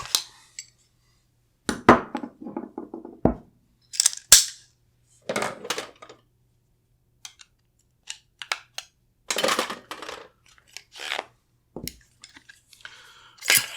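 Metal parts of a Windham Weaponry MCS rifle click, clink and slide as the bolt carrier group is pulled out, with close sharp snaps and scrapes scattered between stretches of silence.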